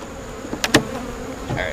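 Honeybees buzz at a beehive on a beekeeping farm, a steady close-up drone with a couple of brief sharper bursts partway through and no voices.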